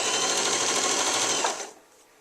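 A sewing machine back stitching the seam of a hot dog pillowcase, running in one steady, loud, close whir before stopping abruptly near the end.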